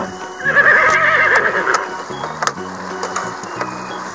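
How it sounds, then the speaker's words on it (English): A toy animal-sounds game plays a horse whinny effect, a bright wavering neigh over roughly a second, then a looping electronic jingle with a few clip-clop-like clicks until the end. "Underneath the blue square was a horse."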